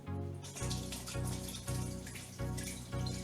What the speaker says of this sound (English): I strained out the mixture in the demi-jars